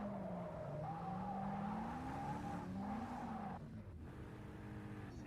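Sustained tyre squeal from the rear tyres of a racing car in Project Cars during a GTE race at Spa, a wavering high whine over steady engine roar, loud and continuous, dipping briefly near the end.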